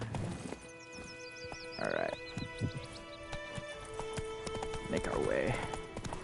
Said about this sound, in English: I will ride the horse over there.